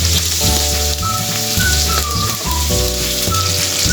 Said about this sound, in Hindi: हम प्याज को तेल में फ्राई कर लेंगे।